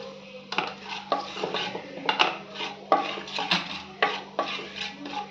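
Washed chicken pieces go into a pan with turmeric while a metal spoon stirs them, a close run of uneven clinks and scrapes against the pan over a faint sizzle, with no voices.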